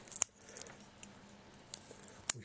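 A Leatherman Squirt multi-tool being opened makes a few faint, sharp metallic clicks and light jingling taps, close and quiet in a still room.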